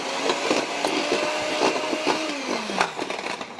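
A stick of softened butter, half a cup, is beaten in a bowl for pineapple bread, giving a steady whirring mixer drone with scraping and clicking against the bowl throughout, fairly loud and with no talking.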